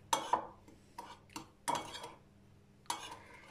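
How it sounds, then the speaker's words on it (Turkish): Stirring of a mushroom mixture in a bowl gives several sharp clinks and scrapes of a utensil against the bowl, coming in irregular bursts with quiet gaps between them, close up and with no voices. "Şimdi bunu da karıştıralım."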